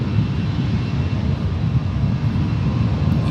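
A Boeing 747 landing at San Francisco International Airport gives a steady, loud low roar of engines and rushing air, broad and sustained throughout with no voices.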